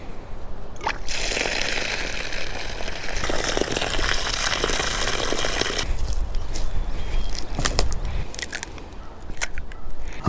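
Morel mushrooms are rinsed under steady running water at a camp cooking setup, with a continuous close splash and rush, then lighter sloshing and a few sharp clicks and knocks toward the end.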